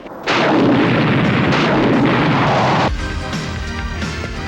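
A grenade launcher fires and explosions go off in a 1990 action film, a sudden heavy blast followed by a sustained roaring burst and a second harsher detonation with rumbling debris trailing off.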